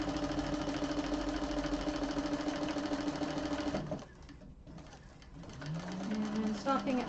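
A sewing machine stitches a scant quarter-inch seam in purple thread on a satchel, a close, even mechanical whir that runs for about four seconds, drops away, then briefly resumes.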